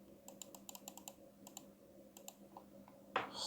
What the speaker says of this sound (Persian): این راست کلیکشه، این چپ کلیک.